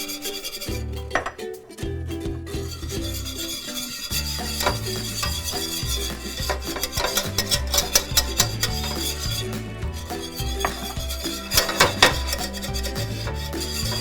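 Beef stroganoff ingredients are scraped and stirred in a pan, a steady close rasping and rubbing with a soft sizzle beneath and a few sharper scrapes near the end.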